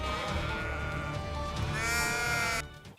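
A single pedigree sheep on a Kyrgyz cooperative breeding farm lets out a loud, close, drawn-out bleat lasting a couple of seconds before cutting off.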